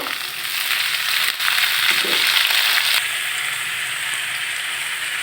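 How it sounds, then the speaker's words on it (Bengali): Chopped potatoes hit a pan of frying onion, a steady close sizzle and crackle with a brief clatter as they go in, settling into even frying. "দিয়ে দিলাম কুচি করে ঝরিয়ে রাখা আলুগুলো"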